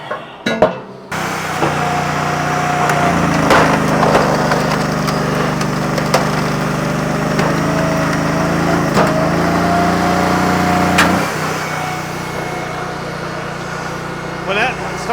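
A Wolfe Ridge box wedge log splitter hums steadily at close range as its wedge drives through wood and hits a knot, with creaks and cracks over the engine and people talking.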